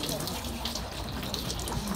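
Water poured from a dipper at the purification basin of Meiji Shrine in Tokyo splashes steadily in a continuous gush at moderate level, with other people's voices talking faintly in the background.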